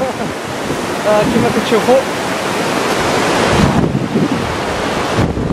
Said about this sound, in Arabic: ها الماء هنا، ها هو الماء ورايا